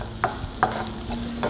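Onions dropped into hot oil in a preheated kadai, where peanuts were just roasted, for rice upma, with a soft frying hiss and a few light scraping stirs, close and without talk.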